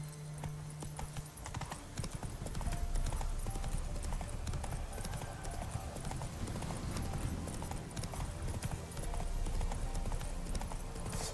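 Geralt's horse Roach from The Witcher 3 clip-clops steadily on hooves, a continuous close trotting rhythm layered over game ambience and music, with a brief whinny possible.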